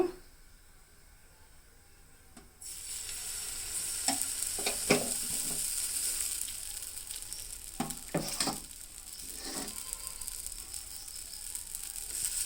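Jaggery dosa batter made with maida sizzles on a hot pan, starting suddenly and holding as a steady close hiss, with scraping and stirring clatter over it.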